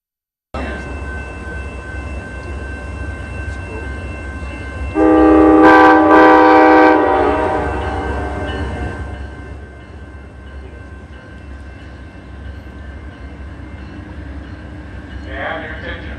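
The northbound Coast Starlight passenger train rumbles in as its horn sounds one loud, sustained blast that fades, followed by a brief second toot. A steady mechanical drone runs underneath throughout.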